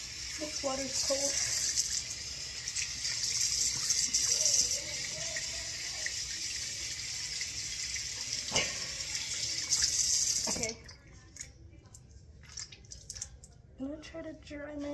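Cold tap water pours steadily into a sink with a bright hiss while hair is rinsed, then stops abruptly; faint drips and a few muffled vocal sounds follow.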